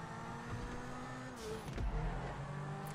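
Lamborghini accelerating in a GTA 5 Online car race, a steady engine drone with a brief rise in revs midway, moderately loud and continuous, with no voices.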